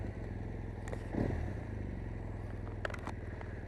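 A 2018 BMW R1200 GS Adventure Rallye motorcycle engine at a low, steady throb while riding, with a faint rumbling drone, a brief swell and a few light clicks and rattles.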